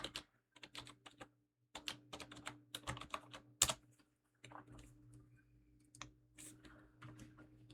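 Fingers tap out a username and password on a computer keyboard while logging into a router, quick irregular bursts of clicky keystrokes with short pauses, close and fairly quiet, no voices.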